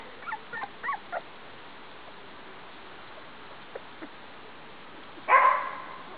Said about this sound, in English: You can hear Mom barking in the background